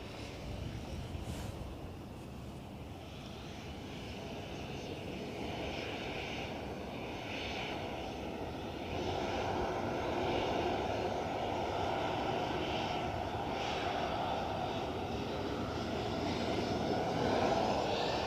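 An EasyJet airliner arriving from Naples at Edinburgh Airport, its jet engine roar building steadily from moderate to loud over the span, broadband and continuous with no voices.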